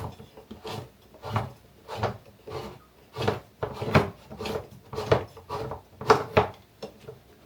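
Safety can opener cutting around the rim of a can in a kitchen, a steady series of rhythmic grinding clicks and scrapes, close and moderately loud, with no talking.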